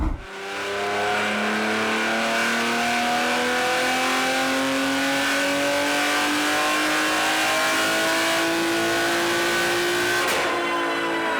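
A tuned car engine on a chassis dyno during a wastegate run, climbing in one long sustained rev from low to high pitch, loud and close, then cutting off near the end; no talking.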